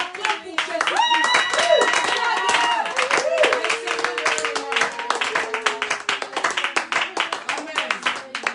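A church congregation applauds for Jesus Christ, loud steady clapping from many hands that thins into scattered claps, with voices singing and calling out over it.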